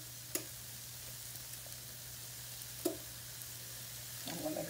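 Onions and green peppers soften in hot oil in a pan for pork chop gravy, giving a faint steady sizzle with a couple of sharp utensil clicks and a slightly louder crackle near the end.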